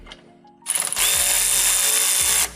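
A power tool drives in a sway bar bolt on a 1979–2004 Mustang: a short rattle of the bolt starting, then a loud, steady whine of the tool lasting nearly two seconds, close by.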